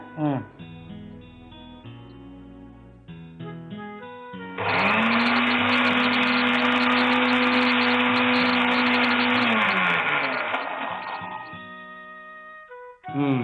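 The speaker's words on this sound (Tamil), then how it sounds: "இப்போ இதை அரைச்சாச்சு" A mixer grinder grinds ingredients for a Tamil recipe, switching on to a loud, steady motor whine that holds for several seconds at close range before winding down, with people talking before and after.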